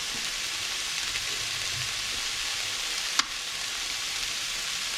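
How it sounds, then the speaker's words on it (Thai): Fish being sautéed in olive oil with black pepper for a cod gratin, a steady soft sizzle and frying hiss with one brief sharp click near the end, no talking. "ผัดกับน้ำมันมะกอกก็ไม่เป็นไรค่ะ ใส่พริกไทยดำด้วย"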